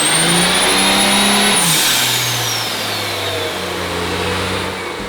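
A high-performance car on a dyno is run hard through the gears, its engine climbing, shifting and pulling loud and close before the revs ease off toward the end.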